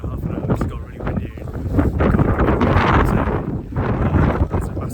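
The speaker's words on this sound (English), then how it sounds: "It's got really windy." Strong gusts buffet the microphone on the Snowdon summit, a loud, rough, surging roar that swells and eases, with a person talking underneath.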